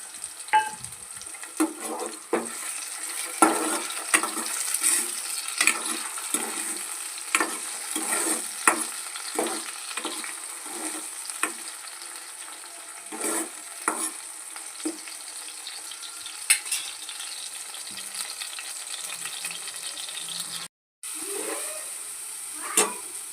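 Chopped tomato and chillies fry in a pan with a bright, crackling sizzle, broken by repeated spoon scrapes and stirring knocks, and with no talking.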